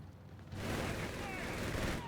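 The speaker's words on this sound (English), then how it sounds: "that heavy machine gun has been clutch for our German player" Heavy machine gun fire in the Company of Heroes 3 strategy game, a sustained, fairly quiet burst of rattling shots starting abruptly and continuing steadily to the end, with no talking.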